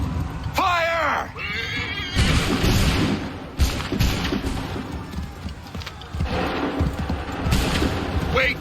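Musket volley in the video game Assassin's Creed III, a ragged crackling burst of many shots with booms, loud amid battle din, horses whinnying, and shouted voices.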